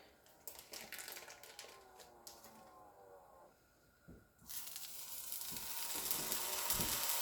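Raw meat being laid into a hot non-stick pan for homemade tacos sizzles steadily, with sharp crackles and spatters swelling louder toward the end, no voices.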